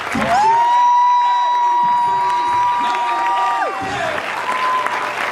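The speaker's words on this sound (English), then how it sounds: "let's give this man a round of applause" A standing crowd applauds and cheers loudly in a hall, with sustained whoops and shouts held over a steady roar of clapping that continues throughout.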